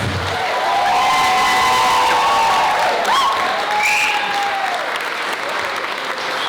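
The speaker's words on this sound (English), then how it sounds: "give them a huge round of applause" A crowd at a networking event claps and cheers loudly, sustained applause with whoops and high shouts rising over it for several seconds.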